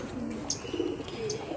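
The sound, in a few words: pigeons cooing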